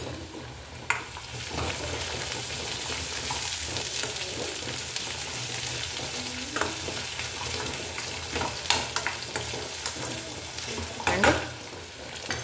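Onions with a pinch of turmeric fry in a pan and are stirred, making a continuous close sizzle with occasional scraping and clinking of the spoon, and a single brief spoken word slips in near the start.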